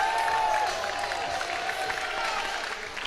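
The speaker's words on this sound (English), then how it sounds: "let's give one more big round of applause for both of these competitors" Audience at a Killer Instinct fighting game tournament at CEO 2018 applauding, a dense wash of clapping heard under a faint voice and background crowd.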